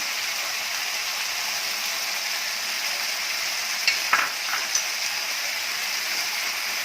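Honey chilli potatoes stir-fried in a pan with a teaspoon of oil over medium-high heat give a steady, even sizzle, with a few light clinks of the spatula near the end.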